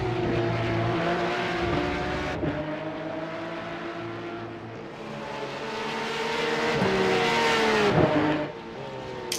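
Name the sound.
Porsche 911 GT3 race car engine at Zandvoort, sim racing video game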